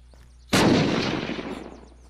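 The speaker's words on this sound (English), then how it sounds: "The range of this shotgun is incredible." A single loud shotgun blast in the video game Kilmore, a sharp sudden report followed by a long rumbling decay, heard alone with no voices.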